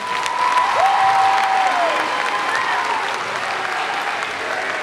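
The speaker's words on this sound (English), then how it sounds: "Can we give a big round of applause for all of our speakers?" Audience at a Cowboy football kickoff event applauding the speakers: steady, dense clapping from a crowd throughout, with a few whistles.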